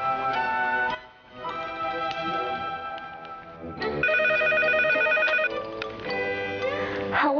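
A telephone ringing with bright repeating electronic tones, loud and close, in several bursts with brief pauses between them.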